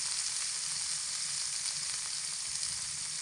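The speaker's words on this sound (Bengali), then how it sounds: "কামরাঙা ভাজার সময় এখানে আমি স্বাদ মতো নুন দিয়ে দিচ্ছি।" Starfruit pieces fry in oil with salt added, giving a continuous, even hiss-and-sizzle close by and no talking over it.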